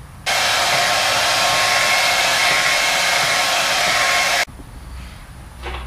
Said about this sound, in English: I got done using my wife's hair dryer to help speed things up a little bit